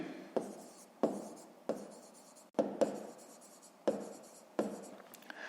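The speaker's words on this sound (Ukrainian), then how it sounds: "Записуємо тоді зірочку." Pen or pencil on paper jotting digits during a fifth-grade math exercise, a series of short scratchy strokes in uneven bursts, close and quiet with brief pauses between marks.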